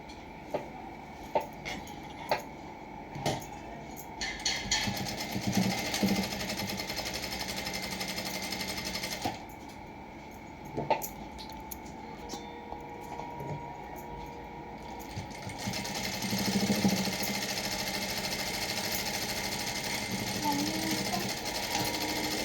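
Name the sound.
sewing machine stitching a blouse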